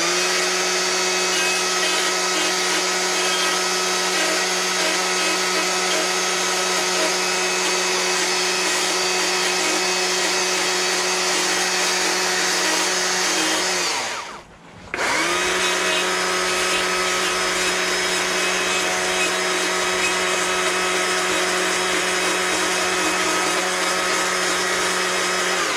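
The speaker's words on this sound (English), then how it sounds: "we're just scraping with the nose of the bar, the underside of the nose" Chainsaw carving fur patterns in wood, scraping with the underside of the bar nose; a loud, steady engine drone runs almost unbroken, with one brief dip midway.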